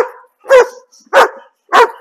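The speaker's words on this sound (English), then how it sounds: "He can bark for a little bit if he wants to." A reactive dog gives three loud, sharp barks spaced evenly about half a second apart, close by, with quiet gaps between them and faint whimpering noise at the start.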